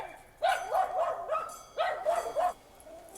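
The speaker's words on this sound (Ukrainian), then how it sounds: "Там багато собак було, і це возмущається, возмущається." A dog barks in two quick bursts of several yelping, whining barks, fairly close and clear, with a short pause between the bursts, near a train in Podgorica, Montenegro.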